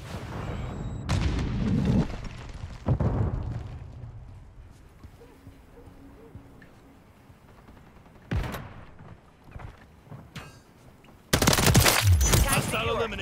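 A Semtex grenade is thrown and explodes during a Call of Duty: Modern Warfare 3 Kill Confirmed match, with loud bursts of blasts and gunfire at the start and end around a quieter stretch holding scattered shots and game voice lines.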